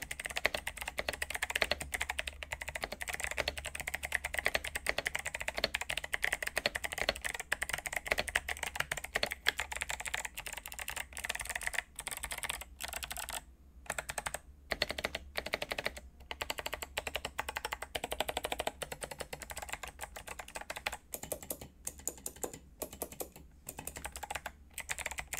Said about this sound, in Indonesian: Switch-nya itu pakai Kyle Box White V2, yang menurutku ini clicky yang paling enak dan unik didengarnya.